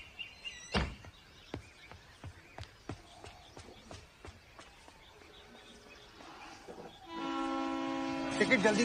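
Train passing at a station, with a run of sharp clacks and knocks over several seconds, then a loud, sustained horn-like tone swelling in the last two seconds as the train draws near.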